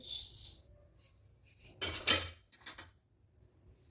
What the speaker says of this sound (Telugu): దీంట్లోకి కొంచెం శనగపప్పు వేస్తున్నా అలాగే కొంచెం మినప్పప్పు ఒక స్పూన్ పెద్ద స్పూన్ అంత వేస్తున్నానండి